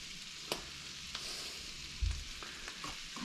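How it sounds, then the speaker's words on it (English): Flour-coated walleye fillets fry in butter in a pan, a steady close sizzle with a few soft taps as pieces are laid in and a heavier thump partway through. "Take each piece of fish, dip it into the flour and the bread mixture, and lay it in that frying pan."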